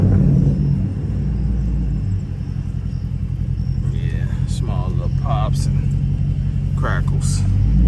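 A catless Chrysler 300 Hemi rumbles with a deep, steady exhaust drone while driving on the street, and small pops are faint under it. People talk over the engine.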